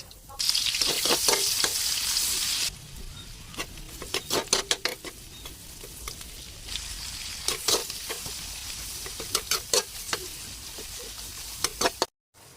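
Sayote and pork sautéing in rendered pork fat in a pan, a loud hissing sizzle at first, then a run of sharp clacks from stirring and spatula strikes over a softer fry, with no talk.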